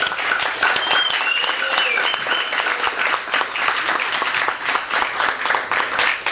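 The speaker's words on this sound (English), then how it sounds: "I think we should give her a clap on that one." An audience breaks into sustained applause, dense clapping that is moderately close and carries steadily throughout, with a few faint voices mixed in.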